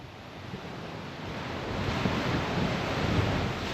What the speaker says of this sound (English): we have found a blowhole